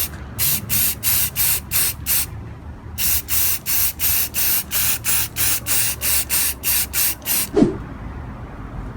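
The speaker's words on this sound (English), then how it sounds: "you apply 2 to 3 coats of the clear coat" An aerosol can sprays clear coat onto a restored Mazda 808 tail light in short, even bursts. Roughly twenty close, loud hisses come in a regular rhythm, with a brief gap partway through, and a small clunk after the last burst.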